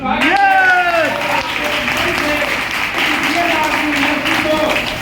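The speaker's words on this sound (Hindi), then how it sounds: "जोरदार तालियां" A seminar audience bursts into loud, sustained applause, a dense wash of clapping with voices shouting over it throughout.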